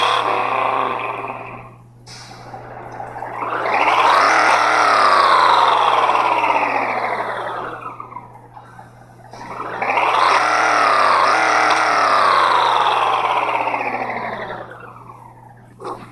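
A car engine fitted with a backfire exhaust in the racing game Nitro Nation revs up twice, each time rising to a loud roar and falling back toward idle, heard alone.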